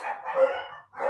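Dogs barking at a delivery person, a couple of quick barks nearby with no talk over them.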